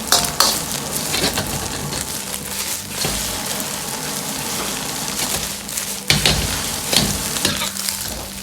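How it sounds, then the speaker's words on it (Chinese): Eggs stir-fried in a wok until fluffy and lightly browned at the edges, a continuous close sizzle broken by loud scraping and stirring strokes, with no voices. "把鸡蛋炒至蓬松，"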